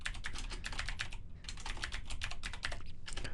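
Fingers type a folder name on a computer keyboard in quick, close bursts of clicking keys, broken by a short pause before the tapping resumes.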